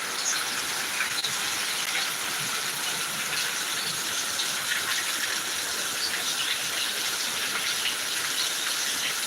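Torrential rain falls in Attingal, Trivandrum, a close, constant roar of drops on surfaces that holds unbroken and loud for the whole stretch, with no one speaking.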